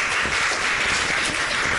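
A theater audience claps loudly and steadily for a poetry reading, a dense, continuous wash of applause with no talk over it.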